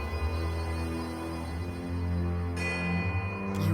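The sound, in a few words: bells ringing in the video game Pillars of Eternity II: Deadfire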